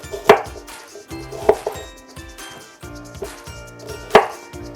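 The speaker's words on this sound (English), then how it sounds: "cut this end off, and then I like to cut them in half" Knife chopping Brussels sprouts in half on a cutting board: a few sharp, close cuts at irregular intervals, with small clatters between them and no talking.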